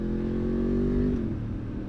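Motorcycle engine revving during a rev-matched downshift, a brief close engine note that holds then drops in pitch, loud and continuous over under two seconds.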